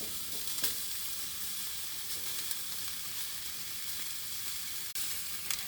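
Seekh kebabs frying in a pan for a paratha roll, giving a steady, close sizzle with faint crackles throughout and no talk.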